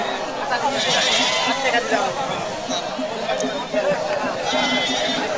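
Goats bleat at a busy livestock market, several cries rising and falling close by amid a crowd of overlapping voices and general market bustle.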